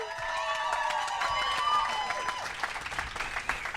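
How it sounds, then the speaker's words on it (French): An audience claps and cheers warmly for a guest being introduced, a dense steady burst of applause with a few whoops rising over it, fading slightly toward the end. "On l'applaudit."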